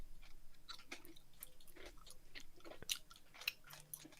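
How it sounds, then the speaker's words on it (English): Someone chewing food by mouth, a run of soft, close, irregular crunching and smacking bites with a few sharper clicks, quiet and with no talking. "taking the bones in our mouth and smashing them together to make some food paste"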